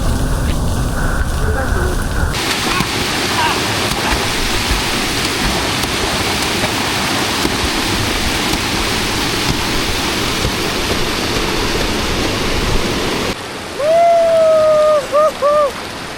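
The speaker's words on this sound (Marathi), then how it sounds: "हे बघा इथे कोंडेश्वर मंदिराचे इथे धबधबा" A waterfall at Kondeshwar temple pours with a constant, loud, broadband rush. A brief whistling tone cuts in near the end.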